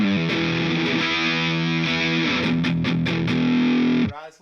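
Electric guitar played through an overdrive pedal set to heavy distortion, sustained thick chords with a dense buzzing tone, loud and steady for about four seconds before cutting off.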